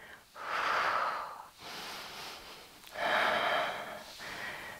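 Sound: breathing during a Pilates ab and leg exercise

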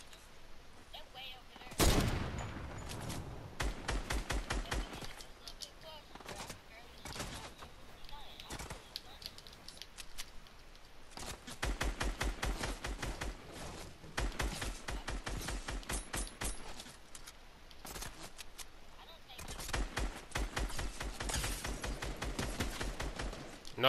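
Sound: gunfire in the video game Fortnite

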